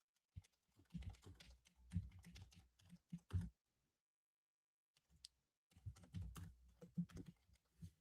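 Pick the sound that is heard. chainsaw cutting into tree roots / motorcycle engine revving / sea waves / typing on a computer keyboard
typing on a computer keyboard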